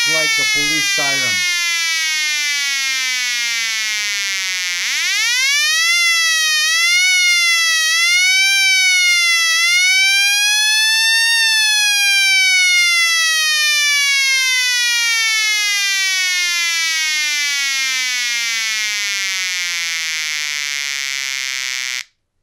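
An electronic siren from a simple transistor circuit with a BC337 NPN transistor wails loudly, sweeping up and down in pitch several times, then holds a long slow glide downward before cutting off abruptly.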